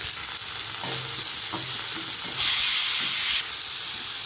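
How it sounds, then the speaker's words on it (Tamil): Broad beans and onions with fennel seeds stir-fried in hot oil, giving a loud hissing sizzle that swells as the vegetables go in, with a few utensil clatters and scrapes close by. "இப்போ கட் பண்ணி வச்ச அவரக்காய் வெங்காயம் எல்லாமே சேர்த்து போட்டுக்க போகிறேன்"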